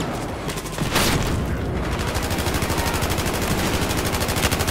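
Battlefield 4 gunfire, fast automatic weapon fire in a tight, steady rhythm rattling nearly nonstop, loud and close, after a short burst near the start.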